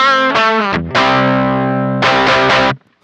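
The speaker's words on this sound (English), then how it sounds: "that's the pedal overdriving the front end of the Katana" Electric guitar through a Beetronics Nectar fuzz and overdrive pedal pushing the front end of a Boss Katana amp, loud distorted chords and a long sustained note, then a few chopped strums before cutting off.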